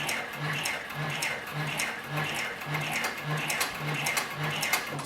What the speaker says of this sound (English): We'll turn the material 90 degrees and then continue sewing.